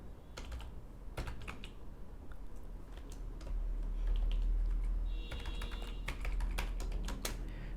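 Code being typed on a computer keyboard for a PHP and MySQL web project, with steady clusters of close key clicks and short pauses between bursts, no voices over the keys.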